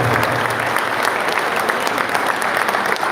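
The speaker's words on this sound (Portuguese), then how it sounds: "Se vocês puderem dar mais uma vez de salva de palmas e é para Deus." Applause fills a Sunday church service as the congregation claps together, a dense, steady wash of hands that holds at full strength throughout without any speech on top.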